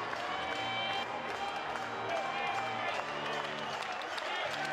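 Basketball arena crowd at a Portland Pilots men's game against Pepperdine, applauding and cheering steadily as the players salute the fans, a dense wash of clapping and voices throughout with commentary over it.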